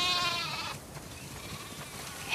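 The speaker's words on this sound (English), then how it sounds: "We definitely have way too many sheep." Several sheep bleat in a pen in The Last of Us Part II, a loud burst of overlapping cries that drops away, then faint calls and a fresh bleat near the end.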